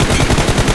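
Rapid automatic gunfire in BGMI, a loud, close string of evenly spaced shots rattling off in quick succession over less than a second.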